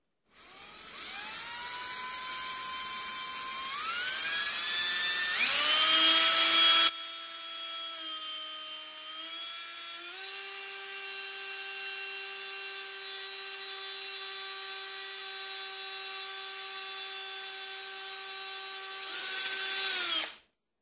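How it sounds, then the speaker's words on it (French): A hole saw drills into PVC pipe with a loud, close, whining power-drill tone that rises and shifts in pitch as the cut deepens, holding steady before stopping abruptly. "Maintenant, je mets ma scie cloche au milieu."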